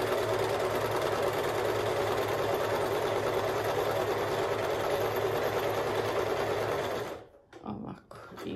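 A Pfaff Select 3.0 sewing machine stitches in a fast, steady, continuous whir for about seven seconds, close and clear, then stops, leaving a few faint clicks.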